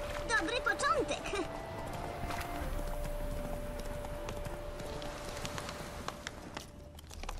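Horse hooves clip-clopping at a steady gait in the Witcher 3 video game, a moderately loud rhythmic patter under game music and someone talking.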